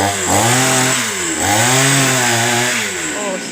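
A chainsaw cutting down an Indian almond tree revs loudly and close, its engine pitch rising, dipping and rising again in long surging strokes.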